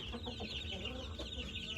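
Fancy foreign-breed chickens, including Frizzles and Silver Sebrights, cluck continuously at a chicken shop in Kolkata in a busy, close chorus, with overlapping calls and a steady din underneath.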